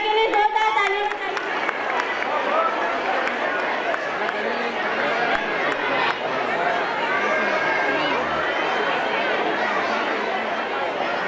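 An audience at a school annual gathering claps and chatters in a dense, sustained wash of applause and crowd noise that holds at an even level throughout.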